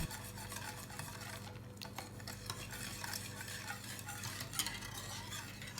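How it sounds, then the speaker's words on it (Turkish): A spoon stirs steadily through thickening milk pudding in a pot on the stove, with a soft continuous scraping and bubbling sizzle, close and even throughout. "Kuru malzemeleri karıştırarak 1 litre sütü ilave edelim ve ocakta kıvam alıncaya kadar pişirelim."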